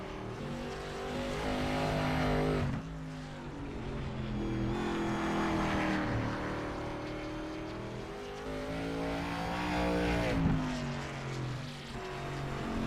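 A race car engine roars through a qualifying lap at South Boston, loud and close, with harmonic pitch sweeping up and down as it revs through shifts and corners, continuous for the whole stretch.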